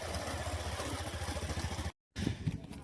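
A motorcycle carrying three riders near the Koshi river at Borabandh runs close by with a steady, pulsing engine chug, briefly cutting out before resuming.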